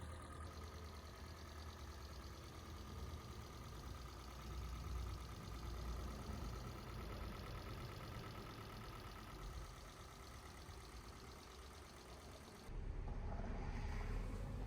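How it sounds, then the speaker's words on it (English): A car engine idling after fresh fluids and an oil change, a steady mid-low hum with a faint rhythmic pulse that rises slightly in level near the end. "Then I just turned on the engine and let all the fluids run through the engine"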